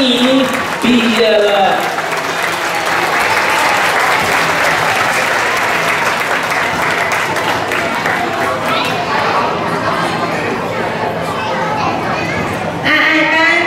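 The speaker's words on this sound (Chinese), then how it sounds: "我们也请现场的家长再次给热烈掌声，恭喜你毕业" Parents in the audience give loud, sustained applause at a children's graduation ceremony, a dense continuous clatter of clapping with children's voices and crowd chatter mixed in throughout.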